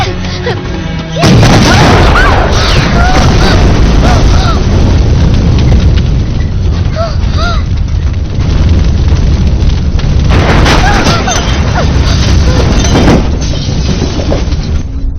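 A vehicle blows up in a Tamil political film after a bomb is planted in it, a sudden heavy blast followed by a long roaring, crackling rumble of fire and debris, loud and close, with a second surge near the end.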